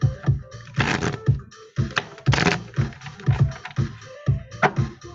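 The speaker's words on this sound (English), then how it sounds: "let me shuffle this for Capricorn" Tarot cards being shuffled by hand, with repeated rapid riffling and slapping bursts in an uneven rhythm, close and fairly loud with no talking.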